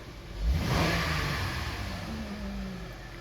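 A car engine restarted in bitter minus-40 winter cold revs up near the start, then settles into a steady running drone, close and fairly loud with no talking.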